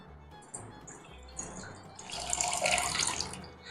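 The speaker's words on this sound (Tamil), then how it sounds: "பேன் சூடாகிட்டு இருக்க டைம் பார்த்தீங்கன்னா தண்ணி ஊற்றிடலாம்." Water splashes and pours steadily into a hot pan, rising louder midway after some faint clinks and handling sounds.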